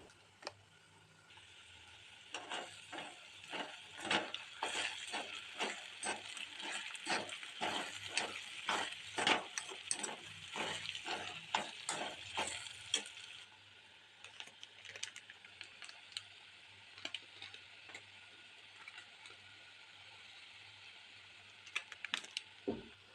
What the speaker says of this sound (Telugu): ఇలా అన్నీ వేసుకొని కలుపుకున్న తర్వాత కొద్దిసేపు టోస్ట్ చేసి